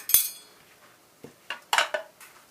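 Spoon or utensil clinking against a bowl while tuna tartare dressed with olive oil is mixed, a few sharp scattered clinks and scrapes close by, with quiet gaps between them.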